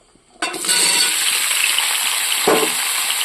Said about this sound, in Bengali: সবজিগুলো দিয়ে ভালো করে ভাজবো